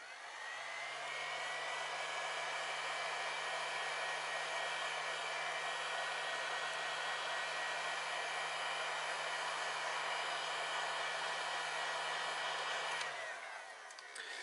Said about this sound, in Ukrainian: Беремо технічний фен і нагріваємо